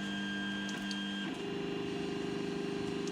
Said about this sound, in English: So when it heats up, the printer finds the 0 point or the home point.